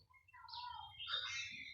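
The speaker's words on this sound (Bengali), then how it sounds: "তবে অনেক পাখি ডাকতেছে।" Several birds chirping and calling in a quiet spring setting among nearly leafless trees, with overlapping bright tweets heard at a distance, faint and soft.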